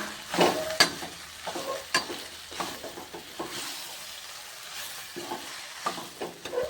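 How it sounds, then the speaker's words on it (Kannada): Chickpea greens stirred while frying in a pan, close scraping stirs and sharp utensil knocks recurring every second or so over a soft sizzle. "ಕ್ಲೀನ್ ಮಾಡಿ ತೊಳೆದು ಇಟ್ಕೊಂಡಿರುವಂಥ ಕಡಲೆ ಸೊಪ್ಪು ಒಂದ್ಸರಿ ಮಿಕ್ಸ್ ಮಾಡೋಣ."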